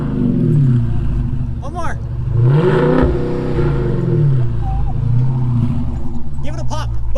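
Dodge SRT Charger engine revving up and settling in a couple of swelling pulls, loud and close, with people talking and excited voices over it.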